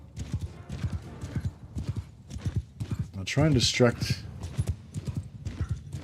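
Cavalry horses gallop in a video game battle, a steady thudding clip-clop with a brief whinny, heard under continuous talk.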